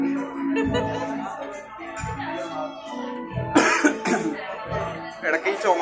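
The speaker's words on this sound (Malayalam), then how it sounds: "ഇടയ്ക്ക് ഈ ചുമക്കത് ക്ഷമിക്കണം" A man coughs several times during a spicy Christmas dinner at a restaurant table, the sharp coughs close and loud, mixed with his own speech and surrounding voices.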